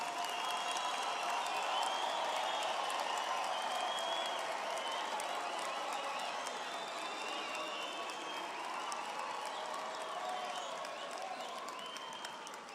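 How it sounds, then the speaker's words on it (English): An audience at a university graduation ceremony applauds warmly, and a dense, steady wash of many hands clapping runs unbroken throughout. "give you a warm round of applause on the successful completion of your studies."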